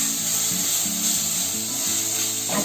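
Tomato paste sizzles and fries steadily in a pan, with a continuous low crackle and occasional stirring or scraping, close and alone without talk.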